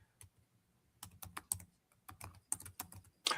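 Someone types on a computer keyboard in quiet, irregular bursts of crisp key clicks with short pauses between them, close and alone without talk.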